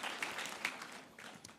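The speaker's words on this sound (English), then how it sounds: "they deserve a round of applause just because of the kindness and the giving hearts they have" An audience at a marriage seminar gives a short burst of scattered applause. It sounds soft and somewhat distant.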